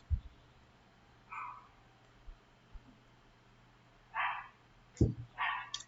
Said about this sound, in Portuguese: Tem um latido de um cachorro no fundo